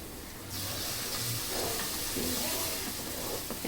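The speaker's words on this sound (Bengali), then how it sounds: "এখন এই মশলাটাকে আমি ভালো মতন কষিয়ে নিব 4-5 মিনিট" Spice paste (masala) stir-fried in hot oil for khichuri gives a steady, close sizzle and hiss, which starts abruptly and holds on with faint stirring scrapes mixed in.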